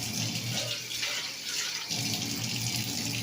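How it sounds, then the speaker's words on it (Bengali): Water is poured steadily into a cooking pot of a simmering home-cooked dish, a continuous close splashing flow that runs for a few seconds with no voices over it. "একটু জল দিয়ে দিলাম।"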